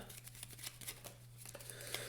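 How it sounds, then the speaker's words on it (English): Cards are shuffled back into a deck during a Marvel Legendary deck-building board game, a run of soft papery riffles and snaps over a steady low electrical hum, with no talking. "So I get to shuffle everything back in."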